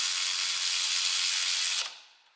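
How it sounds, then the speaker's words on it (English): A Snap-on 3/8-inch 14.4V cordless ratchet (CTREU761B) worked by hand as a manual ratchet gives a steady, close, dense stream of fine metallic clicking that stops abruptly near the end. "I'm actually using this as a ratchet."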